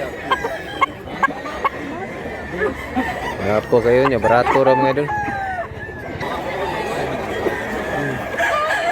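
Rooster crowing several times among background clucks and other fowl, with people talking nearby throughout.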